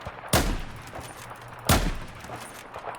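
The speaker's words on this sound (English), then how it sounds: "Now look at me hip firing." Two sharp, loud gunshots spaced about a second and a half apart, each with a short ringing tail, fired from the hip in a shooter video game over a faint steady background.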